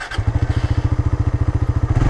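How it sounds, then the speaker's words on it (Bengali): A Suzuki Bandit motorcycle engine catches and settles into a rapid, even, thumping idle, close up and loud, with no voices. "ইভেন আমার বাইকের চেয়ে বেটার সাউন্ড লাগতেছে এটার।"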